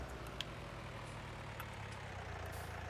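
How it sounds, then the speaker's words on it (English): Tractor engine idling in the video game Farming Simulator 19, a low, steady rumbling drone with a faint tick or two, quiet and continuous with no speech. "almost ran past the tractor there."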